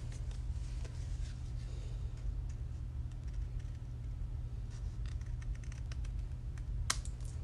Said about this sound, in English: Just snip that little bit off